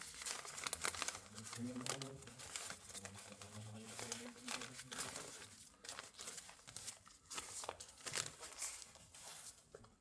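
Old paper wadding being torn and crumpled during a bar renovation inside a chapel: continuous close crinkling and rustling with sharp tearing bursts, and muffled voices underneath.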